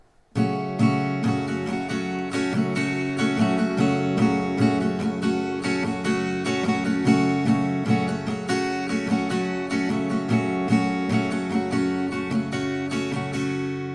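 An acoustic guitar strums a steady, even rhythm of chords from a song, played close and clear with no voice over it.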